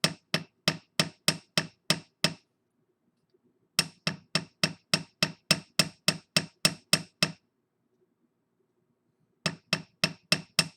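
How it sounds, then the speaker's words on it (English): A small jewelry hammer taps wire on a hard block to work-harden it, striking in quick, even bursts of about eight to twelve sharp, ringing blows, with short pauses between the runs. "with a jewelry hammer."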